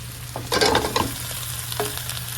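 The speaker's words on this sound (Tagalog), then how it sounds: "Tapos gisa na natin to" Ingredients for kare-kare being sautéed in a pan, with a short burst of stirring and frying sizzle over a steady low hum, then quieter scraping.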